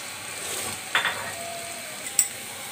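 Sizzling hiss of ground beef mince going into a hot pan for a beef roll samosa filling, steady frying with a couple of brief clinks of a utensil against the pan.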